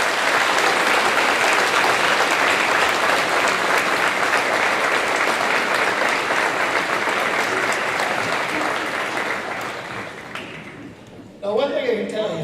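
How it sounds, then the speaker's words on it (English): Loud sustained applause from a large crowd at a high school graduation, fading out toward the end before a voice begins speaking. "give a big round of applause for the contribution all the people out here have given"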